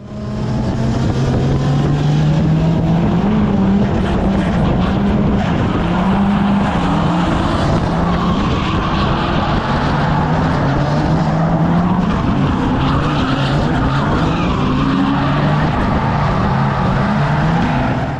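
A drift car in Japan holds a sustained, loud engine roar with wavering pitch as it drifts, tires straining continuously for the whole stretch without a break.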